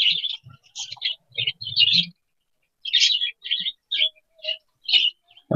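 Budgerigars in a breeding colony give short, bright chirps and tweets in quick bursts, close by with brief pauses between calls, and no other sounds around them.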